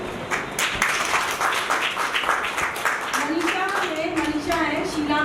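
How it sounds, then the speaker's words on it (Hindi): A school audience applauds at a children's book launch, a steady patter of many hands clapping, with voices and chatter mixed into the clapping throughout. "सब लोग आपके लिए ताली बजाइए।"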